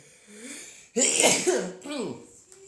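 A person sneezes once, loud and close, with a short vocal sound leading in and a voice speaking briefly afterward.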